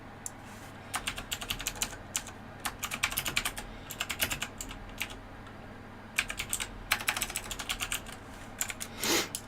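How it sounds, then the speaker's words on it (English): Close-up typing on a computer keyboard while coding a web app, with irregular bursts of crisp key clicks separated by short pauses and a louder key press at the end. "So let's just type post a comment and"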